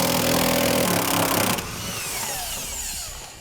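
Power tool backing out 18 mm seat bolts on a 2017 Jeep, a loud steady whir that cuts off abruptly and gives way to a softer, fading mechanical rattle.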